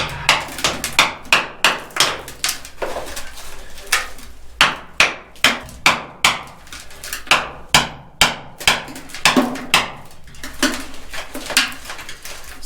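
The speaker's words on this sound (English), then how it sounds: "when I'm hitting it with the chisel, it's sparking." Rapid metallic strikes of a steel chisel on hard quartz rock at a lode gold mine, a steady run of sharp ringing clinks, close and loud, with no talking.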